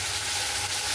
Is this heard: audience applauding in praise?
no